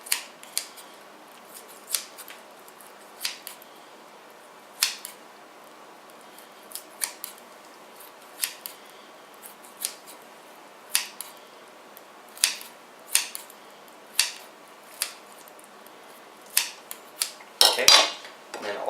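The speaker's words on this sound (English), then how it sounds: "we're just going to cut the rest of it into chunks about this big." Kitchen scissors or a knife cutting chicken into chunks for sweet and sour chicken, a series of sharp, separate snips spaced a second or so apart, close and fairly quiet, ending in a louder clatter.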